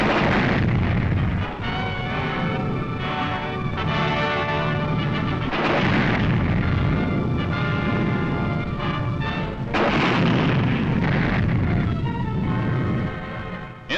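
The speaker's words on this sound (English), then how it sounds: "A tank barrage supports the move." Tank barrage of artillery fire during the March 1945 Canadian advance on Emmerich, loud continuous rumbling booms and blasts rolling into one another, heavy and sustained, with surges around several heavy hits.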